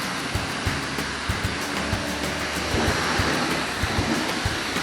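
A pressure-washer spray rinsing soap off a 2020 Chevrolet Camaro SS at a car wash, a continuous broad rushing hiss with rhythmic thumps and pulses as the water stream sweeps across the body, no voices.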